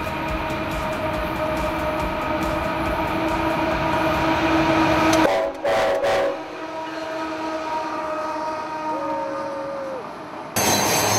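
Freight train rolling past in the Mojave Desert, a loud steady rumble with sustained horn-like tones, ending in a brief sharp break before the rumble resumes.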